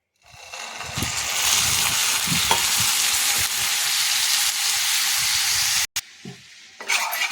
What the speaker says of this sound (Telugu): ఇందులోకి కొద్దిగా వాటర్ని యాడ్ చేసుకుందాం